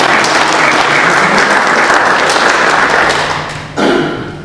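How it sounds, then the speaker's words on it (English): Audience applause fills a room, a steady dense clapping that runs loud for several seconds, then drops sharply and swells briefly again before fading. "you can have a little round of applause for Sasha"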